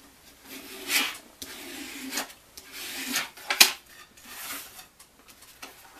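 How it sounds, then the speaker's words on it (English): A folded paper greeting card crease is burnished with a few short, dry rubbing strokes, irregular and close, with quiet gaps between passes. "Now we'll burnish it down over here."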